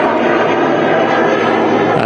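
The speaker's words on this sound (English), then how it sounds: "Got a Logan Air ATR 72, just taken off actually." A Logan Air ATR 72 turboprop climbs away after takeoff at Manchester Airport, its engines a loud, steady broadband roar heard from a distance, with no voices over it.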